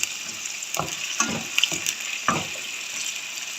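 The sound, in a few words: ginger and green chili frying in a pan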